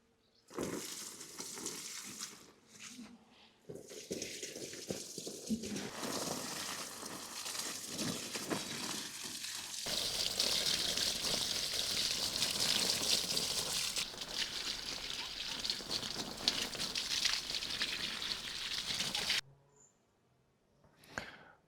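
Liquid fertilizer feed is poured from a container onto watermelon plants growing in clay soil, about two liters per plant: a steady, fairly loud rushing splash that continues for most of the clip, then stops abruptly near the end.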